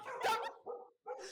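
A dog barks and yips in short sharp bursts close by, with a brief whimpering edge, at a busy shopping plaza; someone shouts at it around the barks.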